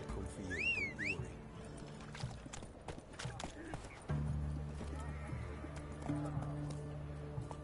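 Roach the horse gallops in The Witcher 3 with rhythmic hoof clip-clops and a whinny, set among game music and ambient effects, with a voice speaking over part of it.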